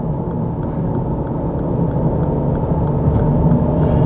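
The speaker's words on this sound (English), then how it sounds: "And it sounds like a petrol car, bizarrely." A 2017 Mini Clubman diesel engine hums steadily from inside the cabin, a low continuous drone with road and tyre rumble, growing slightly louder toward the end.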